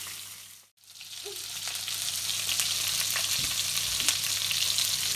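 A salmon fillet frying skin-side down in a pan, a close, steady sizzle that begins after a brief dip and runs on with occasional crackles and pops.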